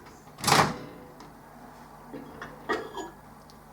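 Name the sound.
microwave oven door opening to take out hot water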